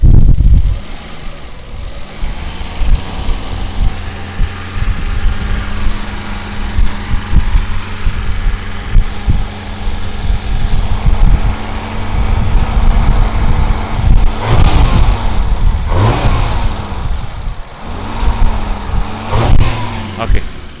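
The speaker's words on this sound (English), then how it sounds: "Let me just do a quick idle rev here." A 1971 BMW 2002 engine idles with a rough, throbbing rumble close by, then revs in a few quick rises and falls toward the end, with brief talk at the start.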